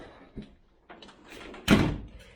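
A Range Rover door shuts with a solid thunk near the end, after a couple of quieter clunks and handling noises in a workshop where the vehicle is being repaired.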